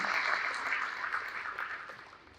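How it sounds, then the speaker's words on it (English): Audience applause at a leadership event honoring a board of trustees, a steady wash of clapping that is fairly faint and distant, slowly tapering off. "Let's give a big round of applause to Giorgio and the rest of the CCAP Board of Trustees."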